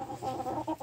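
Hens clucking inside a henhouse: a brief run of soft, close, throaty clucks, quiet and with no voices.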